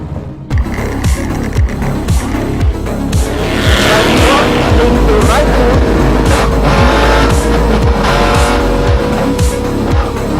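An offroad rally race car drives hard on a track, its engine loud and close throughout, revving up and down continuously with rising and falling pitch and some tire squeal, no talking over it.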